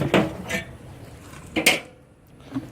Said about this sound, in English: I'm going to go ahead and put my deflector stone on and the grate